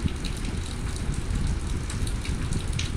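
An egg fries in a pan over a low flame, a steady dense crackle and sizzle that continues unbroken for a few seconds with no voices.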